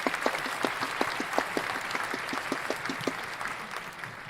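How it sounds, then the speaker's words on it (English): A class audience gives a round of applause, steady dense clapping with sharp individual claps standing out, sustained at moderate level throughout. "can we please give Crystal a round of applause?"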